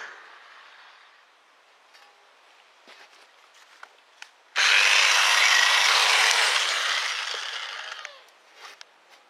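Sanding a Golf V wheel rim spoke with 80-grit sandpaper: light scattered scratches and taps at first, then a loud continuous close-up hiss of abrasive rubbing for several seconds that fades before a few last scuffs.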